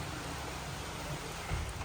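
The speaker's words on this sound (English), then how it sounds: "This is the heaviest it's rained" Heavy rain pours down in a steady, dense broadband wash, close and constant throughout, with a slight low thump swelling near the end.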